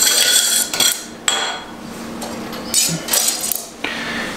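Light metallic clinks and clatter come from a small metal washer being handled during a motorcycle fork seal replacement. There are several scattered taps and rattles, close and fairly clear, with no talking.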